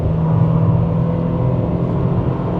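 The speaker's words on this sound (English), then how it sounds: "Oh yeah, it goes to red line in sport mode." A Cadillac Catera (Opel Omega) held in gear in sport mode revs hard toward the red line, a loud, steady engine drone heard from inside the car without any talk.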